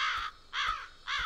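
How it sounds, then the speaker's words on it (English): Three harsh crow caws in the dark video game Betrayer, loud and close, evenly spaced about half a second apart. "I like crows, they're fun."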